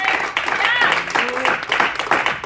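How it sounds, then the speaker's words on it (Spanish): A church congregation claps in praise, brisk applause mixed with voices and cheering throughout. "Denle un aplauso al Señor"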